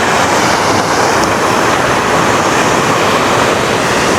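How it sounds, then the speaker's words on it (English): A small side waterfall in Tahquitz Canyon near Palm Springs roars close by in a loud, steady, unbroken rush of falling water, with no voices. "Okay, this is a small waterfall. It's not the main waterfall, the Tahquitz Canyon Waterfall."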